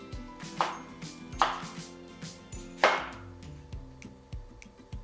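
A knife chopping a bell pepper into strips on a cutting board, several crisp separate cuts at an unhurried pace with softer taps between, close and clear with no talking.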